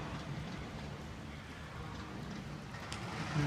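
Steady rain falling outside a mill building seen from the fifth floor, a soft continuous hiss with a low rumble underneath, moderate and even throughout with no voices.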